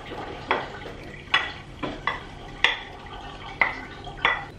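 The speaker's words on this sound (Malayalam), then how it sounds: "നമ്മുടെ പനീർ നമ്മൾ വറുത്ത് വെച്ചിട്ടുണ്ടല്ലോ, അത് ഇതിലേക്ക് ചേർത്ത് കൊടുക്കാം" Fried paneer cubes are stirred into a creamy gravy in a pan, with a spoon scraping against the pan in steady strokes roughly once a second, each pass a soft wet scrape over a faint sizzle.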